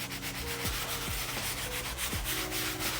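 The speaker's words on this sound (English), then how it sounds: "apply it directly on the bristle brush like so, give it a scrub down" Stiff bristle brush scrubbing cleaning foam into a stained jacket, giving a steady rough rubbing with short repeated strokes, close up and alone.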